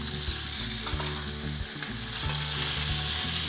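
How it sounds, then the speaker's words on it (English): Capsicum, garlic and tomato fry in a pan with a loud, steady sizzle and crackle close by, with light stirring scrapes throughout and no speech. "we'll be adding few garlic and tomato"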